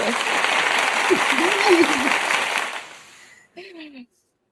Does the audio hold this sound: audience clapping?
yes